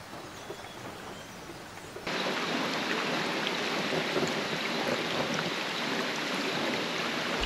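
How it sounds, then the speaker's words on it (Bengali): Heavy rain falls around a hillside balcony in South Sikkim, a soft patter that abruptly swells into a dense, steady downpour. "বৃষ্টির জোর বেড়ে গেল।"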